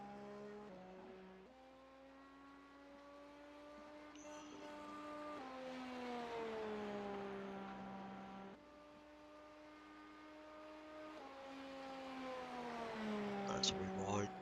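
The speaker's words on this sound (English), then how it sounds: "As we can hear some engines roaring already" Race car engines roar in the iRacing sim during GTP testing at Motegi, a sustained, tonal drone that climbs through gears with several upshifts, growing louder toward the end.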